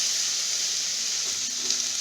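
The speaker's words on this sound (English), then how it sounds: "they are well sauteed with the curry paste" Bell peppers, zucchini, bamboo shoots and chicken sautéing in Thai green curry paste, giving off a steady, close, hissing sizzle with faint stirring underneath.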